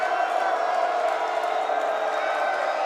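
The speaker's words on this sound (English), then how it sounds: "Crowd gets very loud." Fans at a boys' high school basketball game between Metamora and Marmion Academy keep up a continuous, loud crowd roar of cheers and whoops at the free-throw line, with faint voices blended into the noise.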